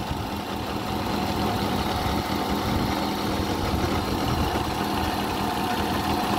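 Engine of a manual-transmission Kia Morning, imported from Korea, idling smoothly and steadily up close, a constant even hum with no revving and no talk over it.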